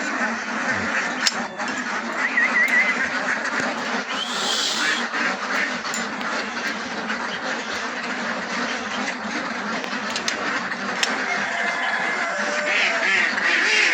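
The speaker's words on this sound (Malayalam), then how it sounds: "പ്രായത്തിലുള്ള ഒരുപാട് താറാവുകൾ വേറെ ഉണ്ട്." A large flock of laying-age ducks quacks at Chiramangalam mixed farm. A dense, continuous chorus of overlapping quacks stays close and loud throughout.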